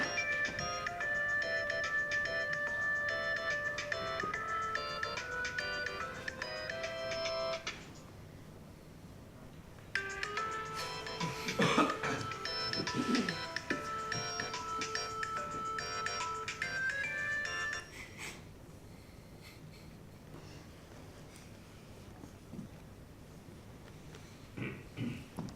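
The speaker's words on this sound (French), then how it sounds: "Un téléphone se met à sonner." A telephone ringtone repeats in two long bursts with a pause between, set in a staged theatre performance, moderately loud with a few knocks and thuds during the second ring and no talk.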